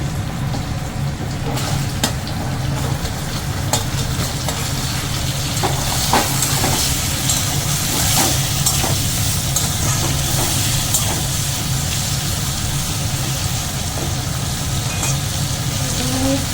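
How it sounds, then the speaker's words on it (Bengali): Cut potatoes and pointed gourd frying in hot oil for a potato-potol shrimp curry: a loud, continuous close sizzle with bubbling hiss and occasional stirring clinks, with no talking. "একটু লাল লাল করে ভেজে নেবো।"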